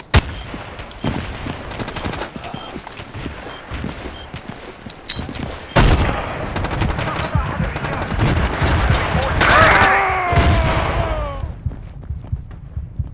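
Gunfire and a frag grenade blast in the Battlefield 2 video game: scattered rifle shots and bursts, then a heavy explosion midway, with combat radio chatter and voices under the firing.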